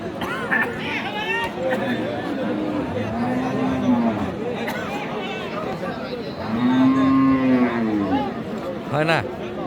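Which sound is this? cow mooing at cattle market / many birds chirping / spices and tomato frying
cow mooing at cattle market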